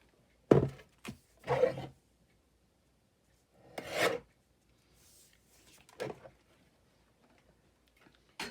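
Paper being trimmed for a craft project, with a few short raspy cutting or rubbing strokes in separate bursts and quiet pauses between them, close and fairly soft.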